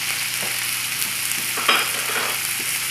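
Cooked bacon, mushrooms and shallots sizzle steadily in a pan, with a few soft scraping and chopping taps of a utensil against the pan over the constant frying hiss.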